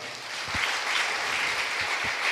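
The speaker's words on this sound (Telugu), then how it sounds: "గట్టిగా చప్పట్లు కొడదాం" Congregation clapping during a Sunday church worship service, a continuous wash of many hands applauding at moderate volume with a few low thumps mixed in.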